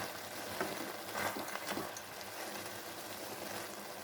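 Watermelon rind curry frying in a pan, with fresh coriander leaves being stirred in: a soft, steady sizzle and a few faint stirring scrapes, quiet and close, with no voices.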